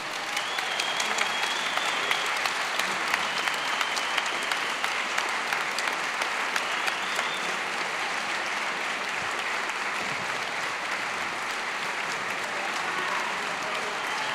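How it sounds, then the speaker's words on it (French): A literary festival audience in Nancy applauding author James Ellroy, sustained dense clapping from a large crowd, loud and continuous with no pause. "Je voudrais que vous l'applaudissiez, mais avec un enthousiasme absolument dingue"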